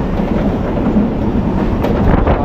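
A local train on the Kolkata to Digha line runs at speed, its steady loud rumble and rhythmic wheel clatter filling the whole stretch without voices.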